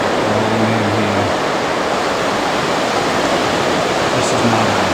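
Ocean surf rolls onto the shore at Cayman Brac as a steady, loud broadband wash with no distinct breaks, while a low motor-like hum drifts in and out beneath it.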